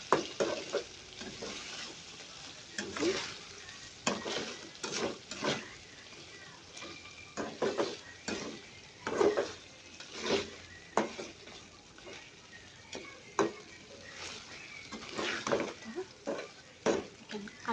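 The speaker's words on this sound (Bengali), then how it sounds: "সামান্য পরিমাণে গরম মশলা গুঁড়ো দিয়ে একটু করে নাড়াচাড়া করে" Curry in a pan is stirred after garam masala powder goes in, with repeated scraping spatula strokes in an uneven rhythm over a low, steady frying sizzle, fairly quiet.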